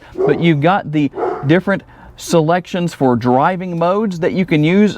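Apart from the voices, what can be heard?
dog barking in the background outdoors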